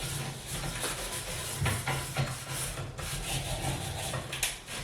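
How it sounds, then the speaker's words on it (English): Baking soda and vinegar paste is scrubbed across a shower surface, giving quiet, close rubbing and scraping strokes in an uneven back-and-forth rhythm with no voices. "So a little bit of baking soda and vinegar. I actually make it into a paste so I can rub it on."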